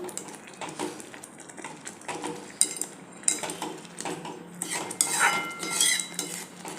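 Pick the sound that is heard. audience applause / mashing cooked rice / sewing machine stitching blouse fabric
mashing cooked rice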